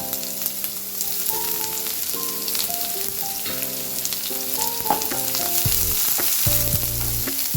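Sliced onion dropped into hot oil fries with a dense, loud, steady sizzle under background music, close and continuous, no talking.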